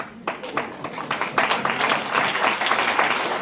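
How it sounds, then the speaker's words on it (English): An audience claps at a talk in the Polish Club in Melbourne. The applause is dense and steady, quickly swelling from a few scattered claps into a loud, sustained round that continues to the end. "It's nice when you clap."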